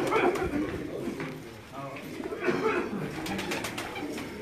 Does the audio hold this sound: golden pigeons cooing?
yes